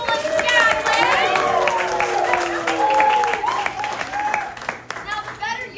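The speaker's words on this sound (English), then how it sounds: "can we get a round of applause for the hardest working people in Skagway?" An audience in a Skagway venue applauds and cheers, the dense clapping and crowd noise blending with voices and shouts.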